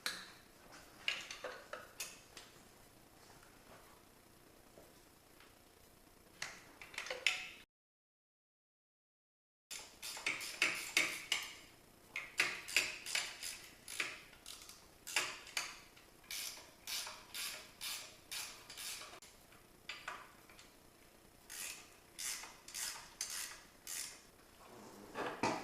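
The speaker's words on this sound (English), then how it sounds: "Let's tackle these 4 17mm bolts." A wrench works loose 17mm bolts on a transmission during turbo and clutch removal, a faint series of rapid ratcheting clicks and metallic creaks that come in bursts, with a short silent gap partway through and no talking.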